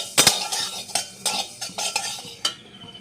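A utensil scrapes and clinks against a cooking pan while coriander is stirred and toasted, about eight distinct strokes in an uneven rhythm, close and clear with no talking.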